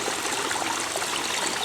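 Creek water runs steadily right beside the camera on Georgia public land during a spring turkey hunt, a close, continuous broadband rush and trickle with no other sounds on top.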